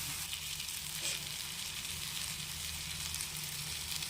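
Spices with chilli powder and turmeric frying in a little oil in a pan for dry prawn and brinjal curry, a steady close sizzle that holds evenly throughout with no talk.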